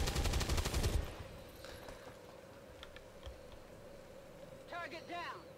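A soldier gunning down an alien in XCOM 2: a loud burst of rapid automatic fire opens, then dies into quieter game ambience with a few faint clicks and a soft electronic chirp near the end.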